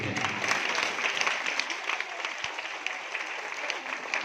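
A church congregation claps loudly together in a sustained, dense burst of applause that continues steadily throughout, close and full.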